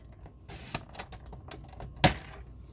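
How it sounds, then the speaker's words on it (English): A paper trimmer slices through a sheet of card stock, giving a brief scraping swish followed a moment later by a sharp, loud snap of the blade, close by with no talking. "I'm using our awesome paper trimmer"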